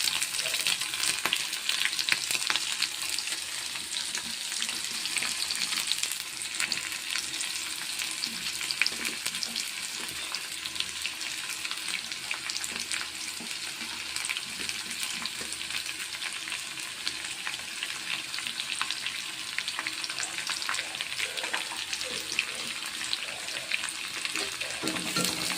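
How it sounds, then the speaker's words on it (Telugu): Onions frying in oil for an okra and prawn fry, a steady dense sizzle and crackle that holds evenly throughout with no voices. "ఆనియన్స్ వేసేసాను. ఎక్కువ వేగా అవసరం లేదన్నమాట, ఆనియన్స్ లైట్గా వేగినా చాలు."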